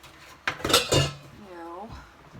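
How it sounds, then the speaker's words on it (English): Spatula scraping a bowl clean while making pumpkin pecan chocolate chip bread, a few close clattering scrapes and knocks of utensil against dish in quick succession, then quieter handling. "Let's get this scraped off. Don't want to wash any of this down the drain."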